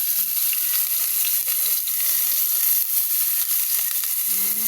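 Onion and garlic frying in a pan for chicken caldereta, a loud, steady close-up sizzle and crackle that holds throughout, with a few faint stirring clicks.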